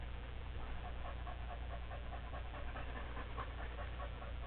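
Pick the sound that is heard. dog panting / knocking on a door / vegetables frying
dog panting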